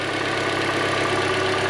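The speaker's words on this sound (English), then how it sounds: "Right now the vehicle is idling." A 2011-2016 Hyundai Elantra engine idles steadily at close range just after a drive belt replacement, a smooth continuous hum with no speech over it.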